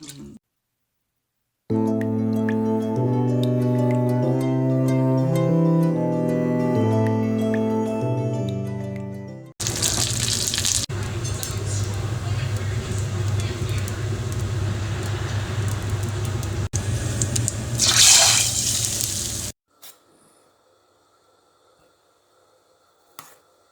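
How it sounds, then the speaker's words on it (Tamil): Music plays first, then a steady bubbling, hissing boil of garlic rasam in a pot carries on for about ten seconds before fading out. "தேவையான அளவு தண்ணி சேர்த்து ஒரு கொதி விடலாம்"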